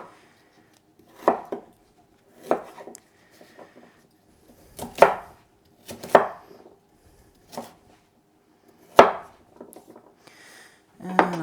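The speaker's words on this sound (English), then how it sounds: "I'm just gonna give these a rough chop just so they blend a little easier in the food processor" Knife roughly chopping turmeric on a cutting board, about nine separate sharp thuds at uneven intervals with quiet gaps between, close and fairly loud.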